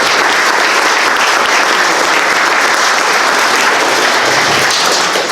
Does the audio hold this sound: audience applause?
yes